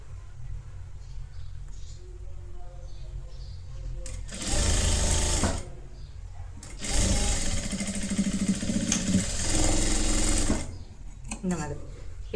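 Sewing machine stitching the hem of a three-dart blouse, running in two loud sustained bursts with a low mechanical whir and quiet pauses between them, while someone talks softly over the quieter stretches.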